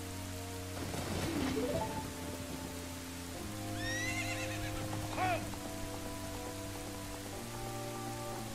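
Horse whinnying from Zelda: Ocarina of Time, heard mid-clip as rising and falling neighs over sustained game music with a soft rain-like hiss underneath.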